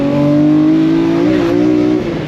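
A BMW E46 M3 fitted with a CSL airbox revs loudly and close, its intake note holding a strong steady drone that rises and falls slightly over a couple of seconds, with no talking.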